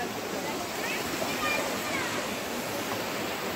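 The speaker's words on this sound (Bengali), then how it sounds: "এই দেখো এখান দিয়ে জলটা বয়ে যাচ্ছে" Water flowing past steps at Ajodhya Pahar in Purulia, a steady broadband rushing wash that stays even and fairly close throughout, with a voice talking over it.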